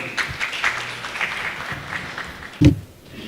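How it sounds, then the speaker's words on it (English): Steady applause from an audience fills the clip, a dense patter of many hands clapping at moderate volume, ending with a brief louder thump. "can we please have a round of applause for Sabahat Rafiq?"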